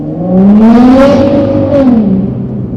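A Nissan GT-R sports car engine revs up loudly, its pitch climbing and then falling back, close by and with no voices.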